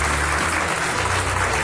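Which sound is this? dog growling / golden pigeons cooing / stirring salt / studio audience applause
studio audience applause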